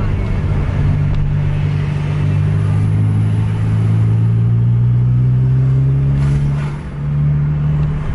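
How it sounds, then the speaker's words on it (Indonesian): A truck drives along a road, its steady loud engine rumble and tyre roar filling the whole stretch, with a low drone rising slightly in pitch and dipping briefly near the end. "Ada truk lagi nih."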